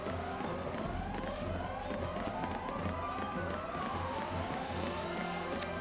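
In the Final Fantasy XIII video game, a looping siren wails over and over, sweeping up and down in pitch, layered over game music and battle effects.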